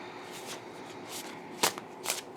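Woodland Wardens oracle card deck being shuffled by hand, soft papery riffling throughout with two sharper snaps of cards near the end, quiet and close with no talk.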